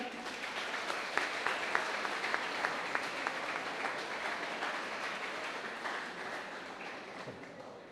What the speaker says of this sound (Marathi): आपण आपल्या फ्रेंड्ससाठी आपण टाळ्या वाजवूया.